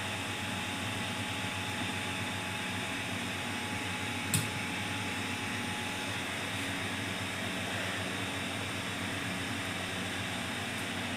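Antminer 12 V power supply running after switch-on, giving a steady faint fan-like whir and hum that stays even throughout, with one small click near the middle.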